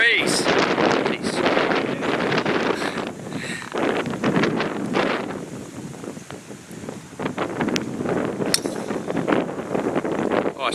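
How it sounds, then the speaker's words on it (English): Breeze on a golf course buffets the microphone with continuous rough, gusting wind noise, and people talk intermittently over it. "Oh, look at this, feel this breeze."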